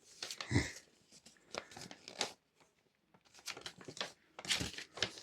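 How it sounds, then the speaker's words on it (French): A box cutter slices through packaging in short scratchy bursts of tearing and crinkling, close and dry, separated by brief pauses with no talk. "Donc je coupe avec mon cutter là."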